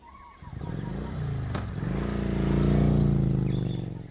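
A motorcycle engine runs nearby and rises in a steady rev, its rumble swelling and then easing slightly, with a sharp click partway through; no talking.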